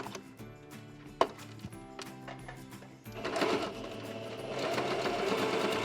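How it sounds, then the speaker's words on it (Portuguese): A domestic sewing machine stitches a straight seam on a patchwork bag: first a light, rapid ticking, then a steadier, louder whirring run of stitching, close by. "Vou fazer uma costurinha reta aqui."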